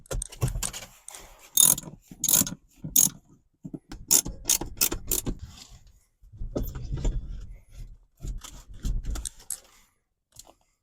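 A hand ratchet tightens bolts to mount a racing seat in a widebody Crown Victoria, giving close, sharp bursts of clicking separated by short quiet pauses.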